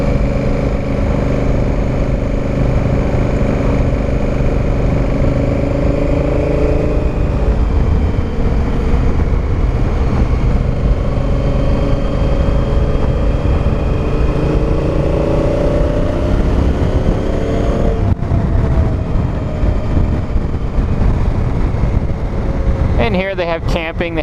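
Honda Africa Twin motorcycle engine droning steadily while riding S-turns on a winding road, loud and close with wind buffeting the microphone, pitch rising and falling through the bends, and a rider talking over it.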